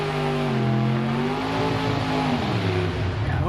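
A Chevrolet Camaro drag car leaves the line at Studebaker drag races, its loud engine roaring and revving with rising pitch as it pulls away, steady and close throughout.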